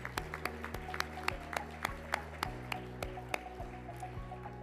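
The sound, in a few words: audience applause at an awards event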